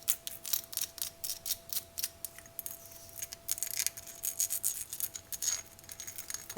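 Fingernails tap and scratch rapidly on small glass vases, producing bright, dense clicks and scrapes in fast irregular bursts, close and crisp with no talking.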